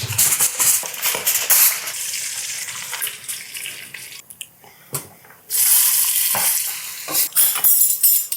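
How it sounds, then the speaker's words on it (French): Butter sizzles and spits in a hot pan as a pork roast sears, giving a close, crackling hiss with bursts of stirring and clatter, briefly quieter midway before a loud burst of sizzling resumes. "On va mettre ici notre beurre. On le fait saisir là, bien comme il faut"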